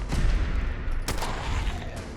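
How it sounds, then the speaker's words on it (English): Gunfire in the Fallout 4 video game, a dense rumbling burst at the start followed by one sharp crack midway and a lighter hit near the end, loud and close with no talking. "I got to do a headshot here and get a crit"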